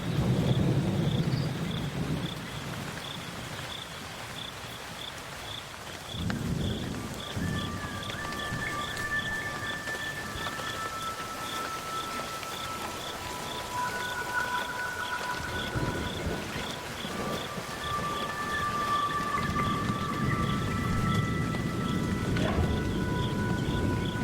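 Steady rain hisses throughout while deep rumbles of thunder roll in and fade in a summer storm over the Okavango, with a faint repeating high tone and a few whistling notes over the storm.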